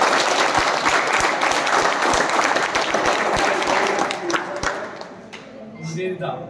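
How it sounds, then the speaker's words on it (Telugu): Dense applause from an audience at a live event, a steady wash of many hands clapping loudly that thins out and fades toward the end, with voices mixed in. "మీ లేడీస్ అందరికీ మీకందరికి ఒకసారి గట్టిగా క్లాప్స్ ఇవ్వండి"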